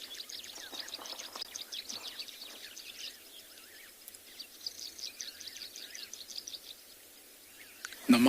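Wild birds call at sunrise in the Kalahari, including Cape turtle doves, Cape glossy starlings, sociable weavers and Namaqua doves, with thin chirps and twitters coming in bursts, moderately distant and fairly faint against a quiet background.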